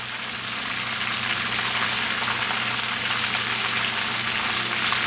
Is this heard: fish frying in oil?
yes